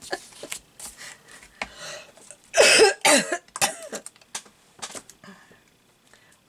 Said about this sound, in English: I'm getting a cough this evening again.